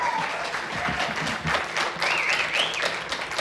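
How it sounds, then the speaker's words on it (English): A cinema audience applauds steadily before a screening of The Creature From the Black Lagoon, dense clapping filling the room with a few whoops and cheers rising over it. "Can we give him a round of applause?"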